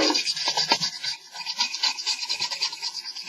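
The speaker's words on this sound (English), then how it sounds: "I normally use a toothbrush" A toothbrush scrubs sanding dust off a 1/72 Italeri Ju-52 plastic model aircraft kit in a continuous rapid rasping hiss, close and steady with brief pauses between stroke bursts.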